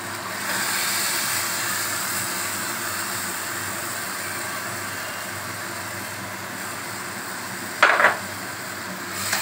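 Marinated chicken cooking in a pan, a steady bright hiss of frying throughout with one louder burst of sizzle and clatter near the end as it is stirred, close and continuous with no speech.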